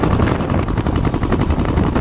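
A motorbike engine held at high revs as the accelerator is twisted, its missing silencer giving a loud, harsh, rapid rattling drone that stays steady and close throughout.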